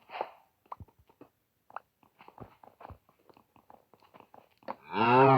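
Scattered soft clicks and thumps, then a single short cow moo at the end, in a one-block survival video game.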